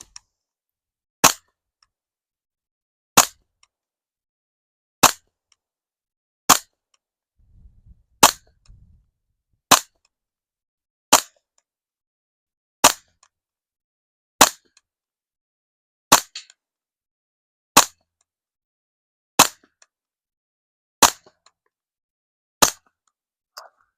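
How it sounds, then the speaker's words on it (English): A Taurus TX22 Gen 2 .22 pistol fires fifteen standard velocity rounds, each a sharp, loud crack spaced evenly about one and a half seconds apart with near silence between shots. "Here we go, 15 rounds,"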